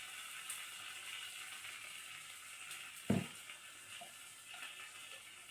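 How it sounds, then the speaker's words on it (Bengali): Spices frying in oil in a pan over lowered gas heat, a steady soft sizzle with one brief louder thump partway through. "গ্যাসটাকে একটু কমিয়ে মশলাগুলো ভাজবো"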